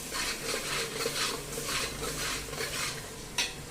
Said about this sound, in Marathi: आता हे वाटण जे आहे हे तेल सुटेपर्यंत परतून घ्यायचं.